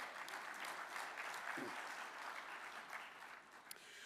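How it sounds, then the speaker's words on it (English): A conference audience at an opening session breakfast applauds with a dense, even patter of clapping from many hands, fairly soft and distant, sustained for the whole stretch. "Please, a round of applause for both."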